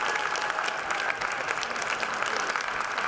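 Applause from a crowd at a high school boys' basketball game against Framingham, honoring the visiting seniors; steady, dense clapping fills the gym at close range for about three seconds.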